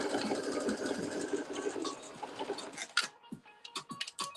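A sewing machine bastes the bottom band of a sweatshirt, running in a fast steady whir that gives way to scattered ticks and short clicks as stitching stops and starts.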